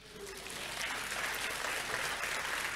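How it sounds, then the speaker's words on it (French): Steady, dense applause from a large church congregation, a continuous wash of clapping with faint voices mixed in. "applaudissons pour Jésus"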